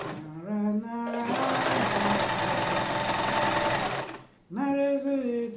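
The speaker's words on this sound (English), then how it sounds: "when you are sewing, you have to be careful with your hand, okay?" A sewing machine stitches a homemade hat in a loud, fast, continuous run of about three seconds. Singing can be heard before and after it.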